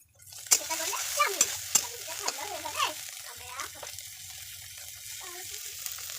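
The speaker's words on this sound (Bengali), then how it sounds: "হালকা একটু নাড়াচাড়া করে এর মধ্যে দিয়ে দেবো চাউমিনটা।" Chowmein stir-fry with onion and chilli sizzling in a pan, punctuated by sharp clanks and scrapes of a spatula, with some running-water and kitchen noise in the background.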